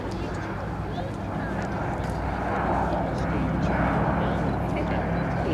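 A B-17 bomber climbs at an air show at Duxford. A steady, broad engine roar fills the whole stretch and grows slightly louder toward the end.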